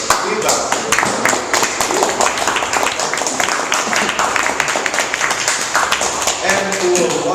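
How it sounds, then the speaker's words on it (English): A small Toastmasters club audience in Metro Manila claps throughout, quick overlapping hand claps at close range holding steady until a voice returns near the end. "give a round of applause to the feedback"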